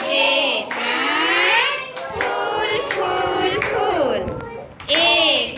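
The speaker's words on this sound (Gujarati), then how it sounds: "તાળી પાડી દો બધાય" Children at an anganwadi birthday celebration clap in bursts while high young voices chant loudly and rhythmically over the claps.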